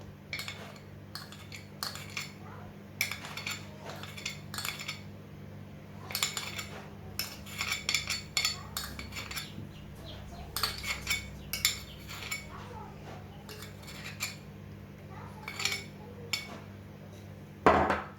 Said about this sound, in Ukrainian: Так, тепер нам потрібно це все змішати.